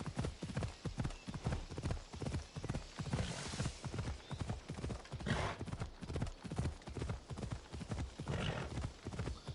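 Horse hooves clip-clopping at a steady trotting rhythm in Assassin's Creed Odyssey, close and even throughout, with no talk over them.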